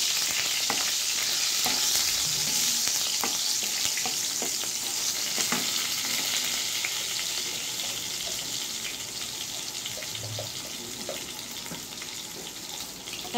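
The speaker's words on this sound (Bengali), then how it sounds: "তারপর গোটা কয়েক জিরা দিব, 4-5টা কাঁচা লঙ্কা দিয়ে দিব।" Cumin seeds and green chillies sizzle in hot oil in a pan, a steady close crackling fry with scattered pops and a few stirring clinks that gradually settles slightly quieter.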